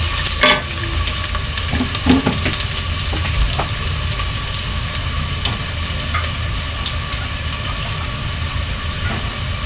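Garlic and ginger frying in a pan, a continuous close sizzle with occasional clinks and scrapes of a utensil stirring, no talking.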